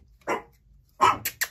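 A dog barks close by, one sharp bark followed after a pause by a louder bark and two quick yips.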